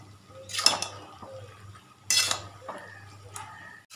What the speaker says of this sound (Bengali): বাঁধাকপিটাকে ঢেলে দিয়েছি, দিয়ে এটাকে ভালো করে